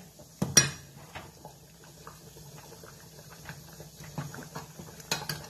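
A spoon clinks against a pot as fried onion is stirred into moong dal cooked with cabbage and fish head, a couple of sharp knocks early, then soft scattered scraping and taps near at hand.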